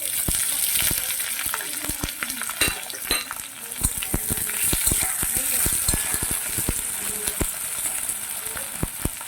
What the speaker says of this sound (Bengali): আলু আর পেঁয়াজটা ভালো করে ভেজে নেব